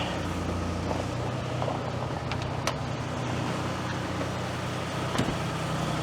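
A 2011 Nissan Rogue that has sat unused for a while, engine idling: a steady low rumble with a constant hiss, interrupted by a few faint clicks, heard up close and alone.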